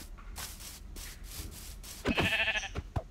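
A white sheep in the Minecraft video game bleats once, a short wavering cry near the end that rises over faint background noise.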